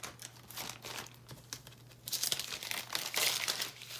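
Paper crinkles and tears while old books are taken apart for handmade Christmas journals, a close, continuous rustle that grows louder and busier in the second half.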